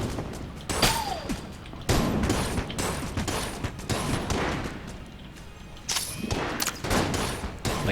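Rapid gunfire bursts from a tank boss in the Enter the Gungeon video game, dense crackling volleys with thuds as cover is blasted apart, loud and continuous with brief gaps.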